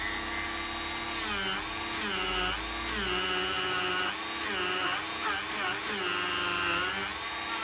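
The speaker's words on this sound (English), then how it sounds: "So this is how you do professional polishing." Variable-speed power polishing machine buffing an antique 18th-century French oak bureau, a loud, close, continuous whine whose pitch rises and dips as the speed and pressure change.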